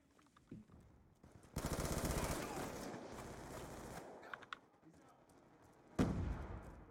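Rapid automatic hip-fire bursts from a gun in Black Ops 2, a sustained stream of loud shots lasting a couple of seconds, then scattered single shots and another short burst near the end.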